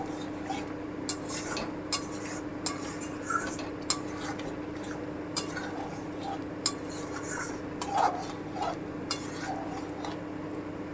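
A spoon scrapes and clinks against a pan while spice masala for capsicum chicken is stirred and fried, with irregular sharp taps over a steady low background.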